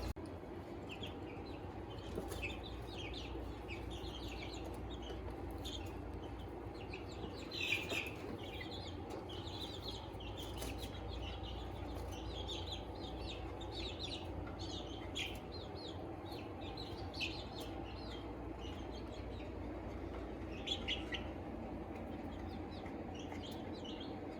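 Chickens clucking and chirping in a backyard brooder coop beside a small miniature food trough, a steady flock chatter of short calls throughout, fairly close, with no talking.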